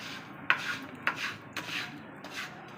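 A spoon scrapes roasted peanuts through onions in a pan, making four gritty stirring strokes at a steady pace, close and moderately loud, with no talking.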